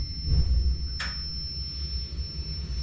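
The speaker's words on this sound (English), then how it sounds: "And now we hear a whoof when it lights." A 750,000 BTU natural gas burner on a distillery still catches light with a single short, soft whoof over a low steady rumble.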